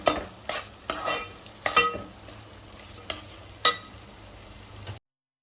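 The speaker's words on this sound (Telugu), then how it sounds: "మొత్తం నీట్‌గా మిక్స్ అయ్యేంత వరకు ఇలా నీట్‌గా మిక్స్ చేస్తూ ఉండాలి." A spoon stirs turmeric into an onion curry in a pan, giving a handful of short scraping knocks at irregular intervals over a faint sizzle, close by and with no talk.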